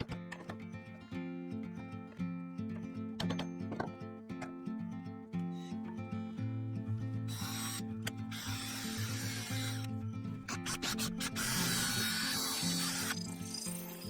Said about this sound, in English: then I marked the centre at each end and drilled 2 holes, a deep one for the woodworm screw and a shallow one to locate the tailstock centre